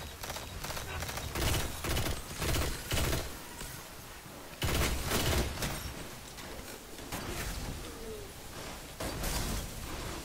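Rapid bursts of gunfire from a weapon with heavy recoil in the video game Destiny on PS4, repeated volleys close and loud throughout, with no talk over it.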